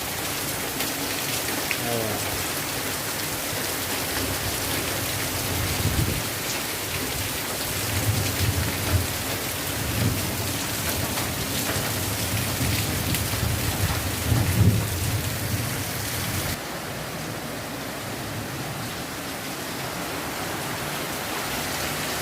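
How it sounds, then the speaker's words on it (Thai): Heavy rain pours down steadily with low rumbles of thunder rolling beneath it, a dense close wash of sound lasting throughout with no clear voices. "ฝนตก ฝนตก"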